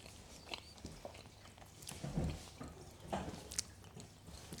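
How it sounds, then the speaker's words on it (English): Close, quiet chewing and munching of food, with soft irregular bites and squishy mouth sounds spread over a few seconds and no speech. "I'm sitting here munching"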